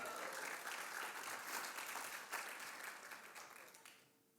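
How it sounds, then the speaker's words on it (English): A luncheon audience at a chamber of commerce membership event breaks into steady, fairly distant applause that holds, then gradually thins and fades out. "Give yourself a round of applause."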